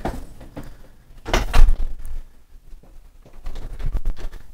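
A door opens indoors as someone walks through it, with a loud knock and clunk midway amid shuffling footsteps and rustling handling noise.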